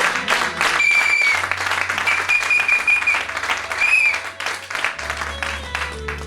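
A church congregation breaks into loud, sustained applause, with dense clapping and some crowd noise under music.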